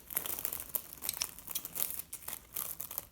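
Foil insulation being trimmed for a ski boot, close crinkling and crackling of the foil in quick irregular bursts with no talking.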